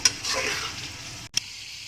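Measured water is poured into a hot pot of frying chana for Mughlai chana pulao, giving a sudden sizzling, hissing rush that fades after about a second, followed by a short clink.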